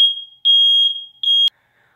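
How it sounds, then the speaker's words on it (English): A smoke alarm set off by something burning blares in loud, piercing, high-pitched beeps, three long bursts in quick succession that then cut off, followed by near silence. "As you guys can hear from the alarm that went off."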